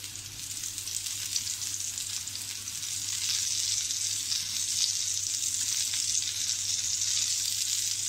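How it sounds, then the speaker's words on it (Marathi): Prawns fry on a flat tawa over a medium gas flame, giving a steady, close hiss and crackle of oil that grows slightly louder midway, with a low hum underneath. "मध्यम गॅसवरच आपल्याला फ्राय करायचे आहेत."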